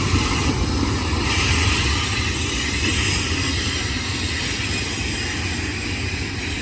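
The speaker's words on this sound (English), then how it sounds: "These are both port stack trains. One's going to Long Beach and one's coming from Long Beach." Two BNSF port stack freight trains pass each other at Cajon Summit, one bound for Long Beach and one coming from it, in a loud, continuous rolling rumble with a dense wheel-and-rail roar close by and no talking.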